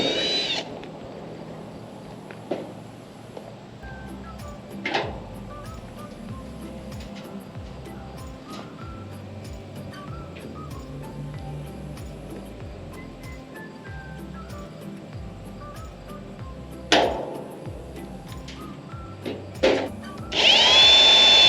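Metal J-channel trim being fastened with rivets during a red iron steel shop build, with a few sharp isolated bursts from a power tool. A low, steady rumble runs underneath.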